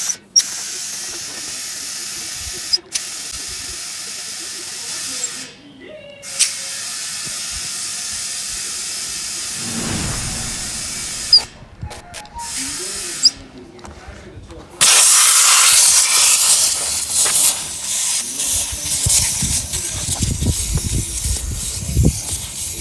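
Compressed air rushing into a tire mounted on a Raceline beadlock wheel, steady hissing bursts that stop and restart, with a louder, harsher blast near the end.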